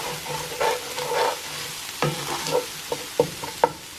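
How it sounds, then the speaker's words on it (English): Casserole ingredients stirred in a dish to coat them in ranch seasoning, giving soft scraping and clattering strokes with a few sharper knocks toward the end, close by with no talk. "it says to just stir this around until everything is well coated in the ranch"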